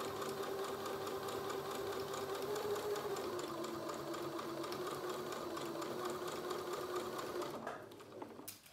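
A sewing machine stitching a fabric seam for a bucket, a steady close mechanical whir and rapid needle patter running for several seconds, then slowing and stopping near the end.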